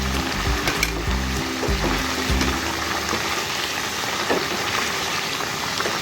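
Chicken kaleji sizzling in about two tablespoons of ghee while it is stirred, a steady close frying crackle with a few scraping clatters from the spoon near the start.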